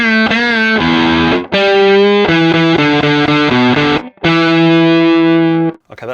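Gibson SG in the middle pickup position, volume and tone at max, plays a crunchy distorted riff through a Boss Katana amp, loud chugging chords and held notes with brief gaps, no talking.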